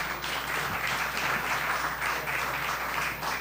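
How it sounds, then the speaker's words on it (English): A round of applause for two competing chefs at a cooking competition finale, even, moderately distant crowd clapping that runs steadily throughout. "Round of applause for our chefs."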